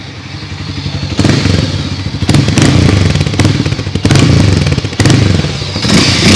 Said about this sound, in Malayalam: അപ്പോൾ നിങ്ങൾക്ക് ഇതിൻ്റെ എക്സോസ് നോട്ട് ഒന്ന് കേട്ട് നോക്കിയാലോ.